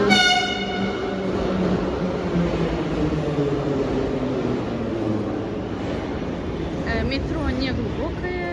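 Moscow metro train rumbling through a station, with a loud continuous mechanical roar, tonal whines and squeals, and a couple of high-pitched tones near the end, with people talking over it.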